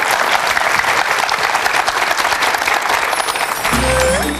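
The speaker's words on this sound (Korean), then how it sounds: "힘찬 박수로 강의 청해 듣겠습니다." A studio audience at a televised Korean lecture claps steadily and loudly for the lecturer, dense sustained applause that stops abruptly near the end.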